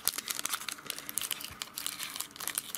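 Fingers tear open the foil wrapper of a Pokemon trading card pack without scissors, close crinkling and crumpling with sharp tearing bursts, continuous and busy, no talk.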